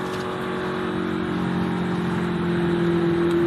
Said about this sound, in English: You hear the engine still running on that car.